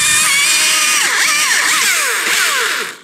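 A chainsaw cuts the flat cut into a leaning tree up close, its engine whining loudly with the pitch sweeping and bogging as the chain bites into the wood, then easing off at the end.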